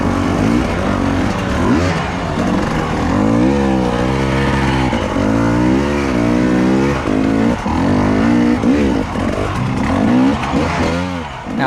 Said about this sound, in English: Love to hear those two strokes revving.